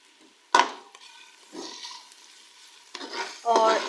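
Ginger garlic paste cooking in a pot for mutton soup, with a sharp sizzle as it hits the hot pan and then soft stirring and scraping, followed by renewed louder frying.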